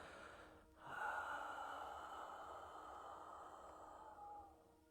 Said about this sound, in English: You're going to exhale out the mouth.